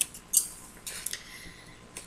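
Scissors snip through paper while a pattern is cut out, a few quiet crisp clicks and slices spaced irregularly, close and alone.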